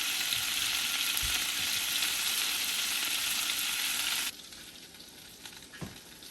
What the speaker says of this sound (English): Yeah, love that sizzle.